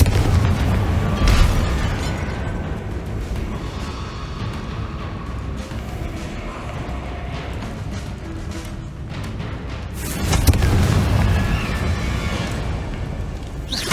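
Confringo fire spells explode in Hogwarts Legacy. Two heavy booms, one early and one late, are separated by a stretch of crackling, rumbling battle noise.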